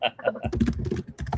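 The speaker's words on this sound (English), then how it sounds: "I'm just typing this for Megan's benefit." Quick bursts of computer keyboard typing, close up, with a short voice-like sound at the start and a few quiet gaps between the clicking runs.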